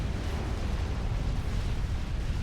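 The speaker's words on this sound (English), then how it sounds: "Explosions still occurring." Continuous deep rumbling explosions in the strategy game Supreme Commander, dense and steady, with a constant low-end roar and no distinct separate blasts.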